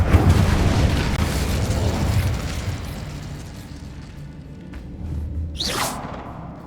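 Incendio fire spell cast in Hogwarts Legacy, a loud roaring fiery burst with a rushing whoosh that fades, followed by a quieter lull and a brief sharp swish near the end.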